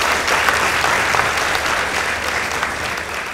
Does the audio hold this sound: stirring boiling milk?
no